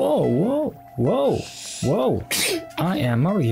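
A cartoon character, Princess Peach, gives a sneeze among animated chatter and jingly effects, a short burst heard close between stretches of sing-song talk.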